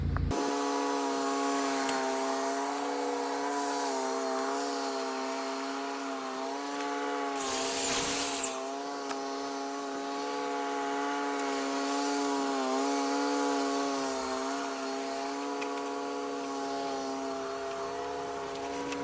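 A chop saw fitted with a 12-inch Trex blade runs steadily for the whole stretch while building a Trex Seclusions fence, a loud whining tone near the mic with a brief harsher burst midway, and no voices.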